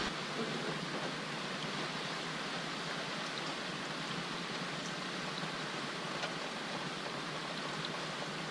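Diesel fuel draining steadily from a Cummins engine's fuel filter into a bucket, a continuous close splashing trickle like running water, constant and alone for the whole stretch.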